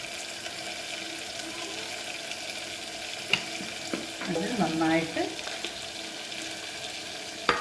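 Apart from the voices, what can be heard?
beef roast frying and being stirred in pan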